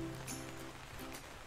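Irrigation sprinklers spraying water in the farming game Farmer's Dynasty make a steady hiss of falling spray, like rain, with faint tonal hum underneath. No one speaks.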